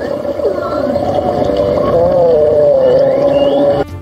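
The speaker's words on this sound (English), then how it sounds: "Yes, this is a blue whale." A blue whale vocalizes in a long, loud, moaning call that slowly bends in pitch, with fainter higher wavering tones above it and a steady watery rumble beneath, ending abruptly.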